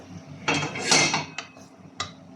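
A spoon stirs chicken in a metal cooking pot during palak chicken preparation, giving a few scraping, clinking strokes against the pot, moderately close and fairly quiet, with no speech.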